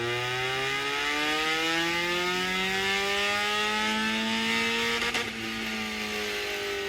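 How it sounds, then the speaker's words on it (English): A Mazda Miata engine revs hard off the rev limiter, holding a steady loud high-pitched drone that climbs gradually, then dips slightly near the end. "Wow, off the rev limiter."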